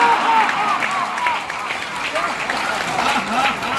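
Devotees at a Krishna kirtan gathering clap and laugh together, a steady crowd of handclaps and voiced laughter with rising and falling vocal bursts filling the whole stretch at close range.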